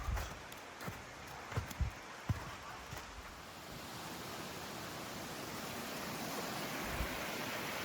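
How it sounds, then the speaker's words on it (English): A small seasonal waterfall with miniature cascades on an icy forest trail gives a steady rushing hiss that grows fuller as it goes on, with a few scattered thumps early on. "So this is a seasonal waterfall, so I don't believe it actually has a name."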